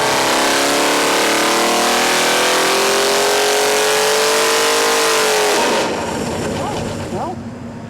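A 512 cubic-inch stroker big-block engine with a raised block and an added spacer screams at high RPM on a dyno, rising steadily in pitch for several seconds before dropping off into a rougher, fading idle-down.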